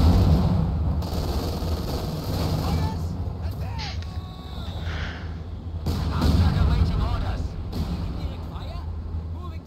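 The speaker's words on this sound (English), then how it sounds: "my mortar's gonna trigger this mine by accident" Mortar rounds firing and landing in the Company of Heroes 2 video game, deep booming blasts rolling repeatedly beneath steady overlapping voices of players talking.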